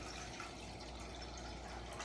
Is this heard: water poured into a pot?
yes